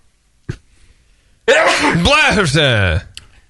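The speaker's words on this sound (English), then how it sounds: "I have to sneeze." A single loud, close sneeze: a short intake, then a drawn-out voiced burst lasting over a second, preceded by a faint click.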